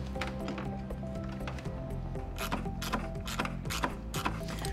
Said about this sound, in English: I just got done tightening the hardware for the lower intake tube.